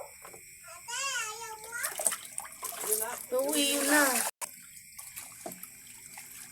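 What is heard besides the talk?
tap water poured to wash rice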